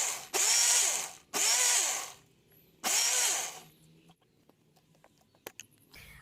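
An electric blender beats oil and egg into mayonnaise in three loud, close bursts of whirring motor noise, each about a second long with short pauses between, followed by quiet handling clicks.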